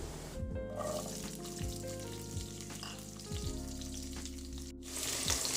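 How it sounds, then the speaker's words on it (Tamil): Small onions sauté in hot oil with cinnamon, cardamom and fennel seeds, giving a soft, continuous frying sizzle under a layer of background music. "வெங்காயம் நல்லா வதங்கணும்."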